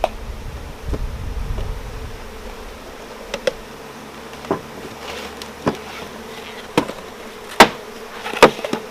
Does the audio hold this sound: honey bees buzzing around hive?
yes